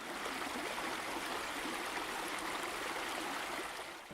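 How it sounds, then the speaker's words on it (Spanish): A small stream runs through the middle of a forest, giving a steady, even rush of flowing water with fine trickling detail. It sounds close and continuous, with no voices. "el agua de un riachuelo en mitad del bosque"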